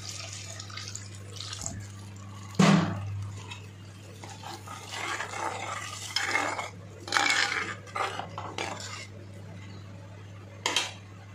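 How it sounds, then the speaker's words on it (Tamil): Water splashes and pours into a pan of sautéed cassava gravy with clattering of cookware, short bursts of liquid over a steady low hum. "தண்ணி ஊற்றிக்கணும்."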